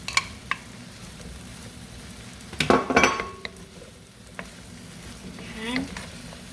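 Mushrooms hit a hot pan of garlic and start frying, a steady close sizzle with a burst of clattering and scraping as they are stirred, then quieter sizzling.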